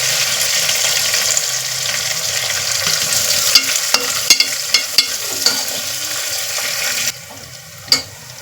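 Green chillies and garlic paste fry in a hot pan with a bright, steady sizzle. A spatula stirs and taps against the pan in a short run of sharp knocks, then the sizzle drops away near the end.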